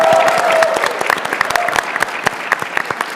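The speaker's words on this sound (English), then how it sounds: "Round of applause for everyone here." Audience applause fills a PAX East 2024 convention panel room, a dense continuous wash of clapping at fairly close range with a brief tone audible early on.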